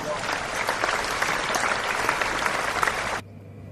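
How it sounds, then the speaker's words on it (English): Applause from an audience, a dense burst of clapping lasting about three seconds before cutting off abruptly into quiet. "A big hand. This means to give applause."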